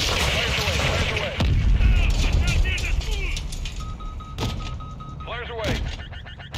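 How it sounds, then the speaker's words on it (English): Helicopter countermeasure flares fire in the Modern Warfare 2 video game, a sharp burst followed by whooshing, crackling launches and rumbling explosions amid radio chatter and game effects. "Flares away."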